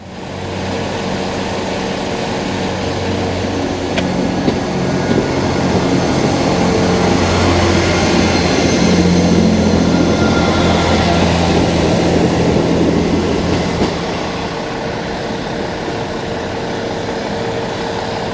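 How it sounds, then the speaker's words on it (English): A train bound for Barmouth rumbles past nearby, a long steady roar that swells in the middle and then eases away, with no talking. "That's the train just going to Barmouth"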